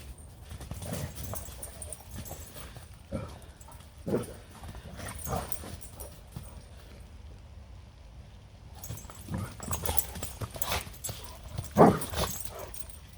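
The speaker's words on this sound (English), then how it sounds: "Excuse the dogs, they're making noise." Dogs whine, yip and bark at intervals, close by, with shuffling and clopping footsteps on soft ground between the calls.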